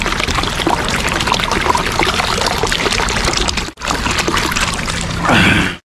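Water streams from a public drinking fountain in Central Asia, giving a loud, steady splashing rush that breaks off briefly near the end before a final gush. There is no speech.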